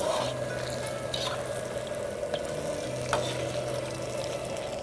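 Ribs fry in a pan with a constant close hiss over a low steady hum, broken by a few small clicks and pops, with no voices.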